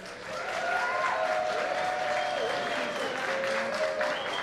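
Audience applause for rabbis and honorees at a Young Israel of Woodmere synagogue gathering, a steady dense wash of clapping lasting several seconds with a faint tonal hum running underneath.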